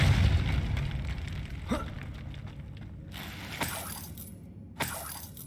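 Spell effects from Hogwarts Legacy play out in the game, with a blasting Confringo burst and a Depulso push: several sharp pops and whooshes stand out over a dense game soundscape.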